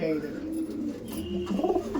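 Low, soft pigeon cooing rumbles on at a pigeon sale in Thakurpukur, a steady murmur from nearby birds with a rounder coo swelling near the end, set against faint background noise.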